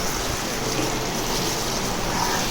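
A steady, dense bubbling hiss of vatha kuzhambu, a tamarind curry, simmering in a pot, continuous and close, with no voices.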